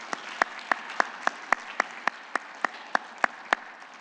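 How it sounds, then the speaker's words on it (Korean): A church congregation at a Sunday service claps together in a steady, even rhythm of about three beats per second, moderately loud, with no talking. "또 감사하고 환영하는 박수."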